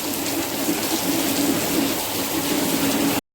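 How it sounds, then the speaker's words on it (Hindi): Steady rain in Malaysia falls in a dense, even hiss, close by and constant, with no voices, ending abruptly. "इतनी प्यारी बारिश हो रही है।"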